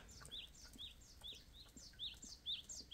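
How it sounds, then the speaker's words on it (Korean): Small birds chirp repeatedly in quick, high tweets, faint and somewhat distant, forming a steady rhythmic pattern over quiet outdoor ambience on a snowy morning. "찍찍찍찍 소리 들리죠"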